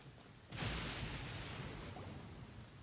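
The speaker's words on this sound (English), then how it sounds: "Now it's raining." In the video game Genshin Impact, a sudden deep boom of thunder breaks out and rolls on as a sustained, broad rumbling wash, like heavy rain and thunder.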